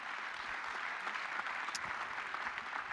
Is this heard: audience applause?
yes